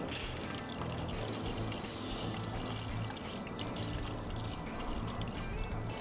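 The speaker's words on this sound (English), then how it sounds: "I'll pour some more in this tank over here." Coolant pours steadily into the tank of a BMW E30 while its cooling system is bled, a continuous close liquid splashing with no voices.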